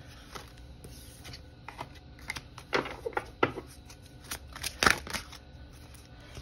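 Oracle cards being shuffled up close in a tarot-style reading, a run of crisp, uneven riffling flicks and soft slaps with quiet pauses between, no talking.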